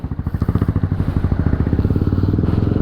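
A Honda CB150R motorcycle engine idles close by, putting out a rapid, even stream of low thumping pulses that stay steady throughout with no voices.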